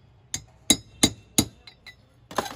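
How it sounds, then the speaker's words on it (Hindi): Hammer blows driving a Volkswagen Vento steering rack part into place: four sharp, ringing metallic strikes at a steady rhythm, then a couple of lighter taps and a final scraping knock, close and clear with no talk. "इसको ठोक के हमने ले चुके हैं।"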